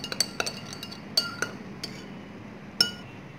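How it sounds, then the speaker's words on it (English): A spoon clinks against a glass while stirring cold coffee with milk: a few quick, bright taps at irregular intervals, close and fairly quiet with no talk. "Give it a quick stir"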